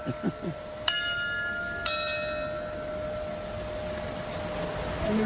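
Two ringing strikes from the jacquemart automaton figures hitting the clock bells at the Auffay market, each stroke clear and resonant and decaying slowly, about a second apart, over faint outdoor ambience with brief voices at the start.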